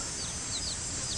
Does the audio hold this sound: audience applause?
no